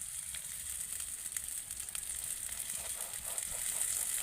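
Aloo kulcha frying in ghee in a pan gives a steady, close, hissing sizzle with faint crackles running throughout.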